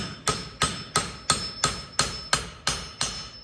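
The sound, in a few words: hammer forging a steel blade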